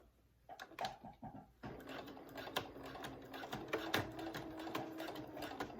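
A sewing machine stitches a zipper into a dress, a quiet start giving way at about two seconds to a steady, close rattling run of the needle with short uneven bursts, alone with no talking.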